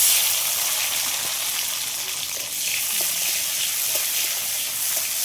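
Chopped tomato sizzles steadily in hot oil with whole cardamom, cloves and cinnamon, giving a loud, continuous, hissing fry that stays dense and unbroken throughout.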